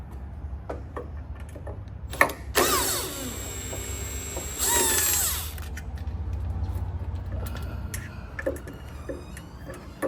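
Power drill backing two Phillips screws out of a door closer: two bursts of high whining drill spin, each a couple of seconds long, separated and followed by light clicks and ticking handling noises nearby.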